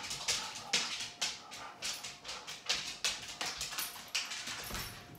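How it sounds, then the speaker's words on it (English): A restless old female dog makes quick, soft, breathy bursts in a steady rhythm, several each second, close by and fairly quiet in an otherwise still room. "We've got an old dog here and she gets restless sometimes."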